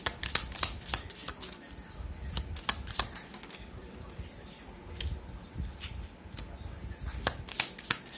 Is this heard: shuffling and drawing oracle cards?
yes